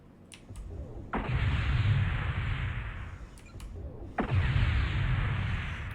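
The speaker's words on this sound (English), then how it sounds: "Here is the volley. Alpha strike." In MechWarrior Online, a light mech fires two SRM missile alpha-strike volleys a few seconds apart, each a sharp crack followed by a dense, roaring rush lasting about two seconds.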